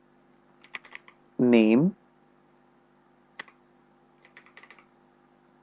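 Light clicks on a computer keyboard as an SQL command is typed, coming in short scattered bursts of a few keystrokes, faint and close, with a brief spoken word between them.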